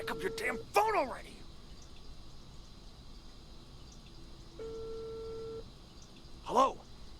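A phone rings unanswered in the video game Unheard, with faint repeated electronic ring tones and a steady tone, nearby sharp chirps, and a voice speaking over the quiet background.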